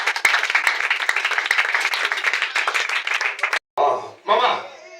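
A church congregation breaks into steady, dense applause mixed with cheering voices, loud and close, then it cuts off abruptly and a single voice speaks over a trailing burst of clapping.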